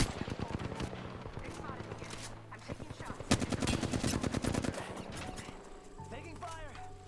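Gunfire crackles in the video game Apex Legends, with rapid automatic bursts and single shots trading back and forth amid other game sounds.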